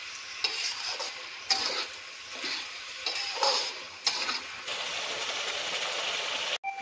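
Ketchup-laced gravy for American chopsuey fries in a pan, a soft steady sizzle broken by repeated scraping stirs and a few sharp clicks of the utensil, fairly quiet and close with no speech.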